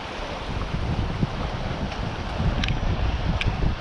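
Strong wind of around 30 knots roars with crashing waves aboard a sailboat passing through the Bonifacio Strait, a loud continuous rush with heavy microphone buffeting.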